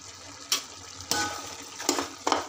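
Chili powder being stirred into a cooking dish, with three or four brief scraping strokes of a spoon against the pan over a low, steady background.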